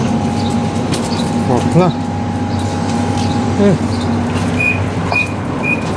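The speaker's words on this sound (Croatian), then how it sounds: "Ovo je naš tramvaj, linija 5." A line 5 tram riding along with a steady, droning motor hum and rumble throughout, while people talk over it.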